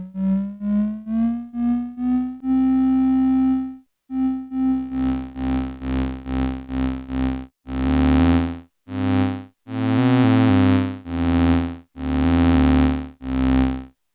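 A semi-modular synthesizer sounds two notes together against an LFO held at a fixed pitch: rising pulsed tones, then a sustained tone, then increasingly buzzy, harsh repeated bursts, loud and close with no talking.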